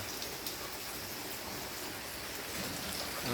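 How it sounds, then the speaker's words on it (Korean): Steady summer rain hisses evenly throughout over a rural village in Uiseong, South Korea, a dense, constant patter with no voices or other distinct sounds. "비가 이거 언제 그치려나"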